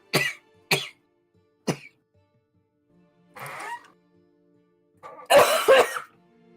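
Harsh, close coughs from a person: three sharp single barks, then a raspy throat-clearing rasp, then a louder double cough near the end, separated by quiet gaps.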